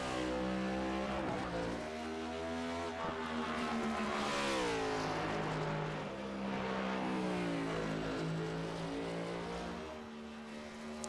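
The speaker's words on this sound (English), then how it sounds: "Oh, his car is really struggling." A race car engine in the ARCS Darkside Mustangs A2 Cup Series, struggling on a qualifying run at the Rock N' Roll 200, drones loudly and steadily for the whole stretch, its pitch sagging and rising unevenly with no talk over it.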